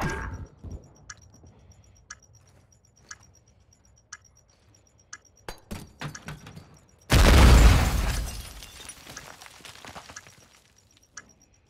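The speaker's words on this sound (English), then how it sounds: "Stand by to detonate." A planted explosive device detonates in Call of Duty MW2, a loud booming blast that follows a stretch of faint regular ticks and scattered clicks, then rumbles and fades over a few seconds.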